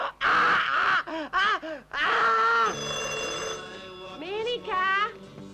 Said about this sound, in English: Minica, the telephone! So it's ringing. Let it ring.